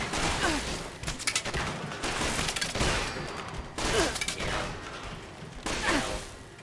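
Enemies shoot in the video game Fallout 76, with several bursts of rapid gunfire arriving in separate volleys a second or so apart, moderately loud, each fading into a low background hum.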